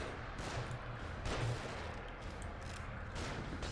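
Distant gunfire pops and rattles in a battle scene from the survival horror game The Evil Within, a continuous crackling volley with no voices over it.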